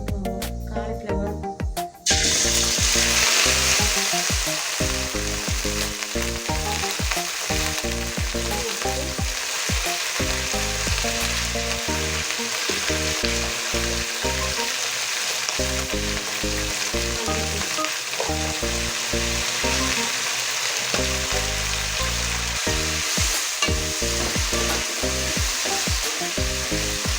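Cauliflower pieces frying in hot oil for a cauliflower fish kulampu, a steady sizzle running the whole time beneath rhythmic background music.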